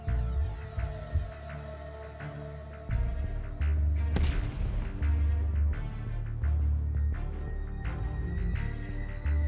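M79 grenade launcher fired in a video game, a single sharp boom near the middle over a low droning game background.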